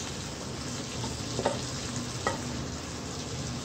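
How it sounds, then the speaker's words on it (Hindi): Masala frying in a pan for aloo palak, a dense continuous sizzle with a couple of short stirring scrapes, close and steady. "मसाला अच्छी तरह फ्राई किया करें"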